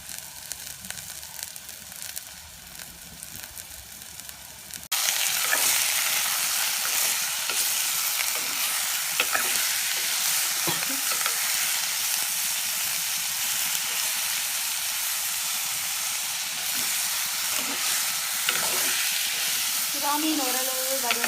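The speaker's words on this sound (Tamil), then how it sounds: "இனி நாங்கள் இதுக்குள்ள வந்து சுறா மீனை போட்டு வதக்கலாம்." Shark fish pieces dropped into a hot pan for a Jaffna-style curry: after a few quiet seconds a loud, steady sizzle bursts in and continues with occasional stirring scrapes, close and unbroken.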